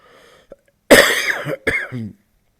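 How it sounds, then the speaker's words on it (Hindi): Several harsh, close coughs from an ill man in two bursts, the second burst ending in a rougher throaty cough, after a brief faint sound and some quiet background. "मेरी थोड़ी सी तबीयत ठीक नहीं है तो इस वजह से खांसी के हमले हो रहे हैं"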